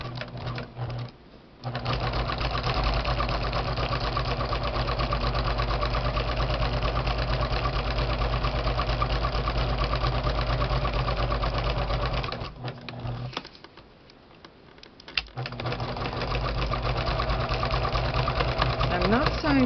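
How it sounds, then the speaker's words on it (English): A sewing machine stitching fabric postcards decorated with ribbon runs in a long, steady, moderately paced whir, stopping briefly twice before starting again. "I'm not sewing too fast because I want the thread to lay on top"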